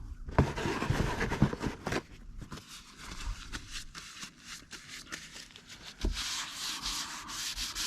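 Hands rub seasoning all over a boneless choice Angus rib roast, a close, continuous rough scraping and rubbing with a few sharper strokes, no one talking.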